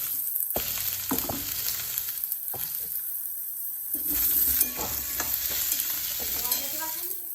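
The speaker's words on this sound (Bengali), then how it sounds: "আলুটা আমি অল্প আছে হালকা করে ভেজে নেব লাল লাল করে।" Potatoes fry in oil for a Bengali paneer curry with a loud, close sizzle, broken by scraping stirs and metallic clinks of a spatula against the pan.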